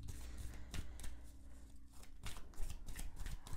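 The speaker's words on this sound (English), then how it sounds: "Oh, the shuffling, honey." Tarot cards being shuffled by hand at a reading table, a run of quick papery riffles and snaps in close, uneven bursts with no voices over them.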